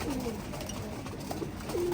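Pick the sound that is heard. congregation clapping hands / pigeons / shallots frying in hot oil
pigeons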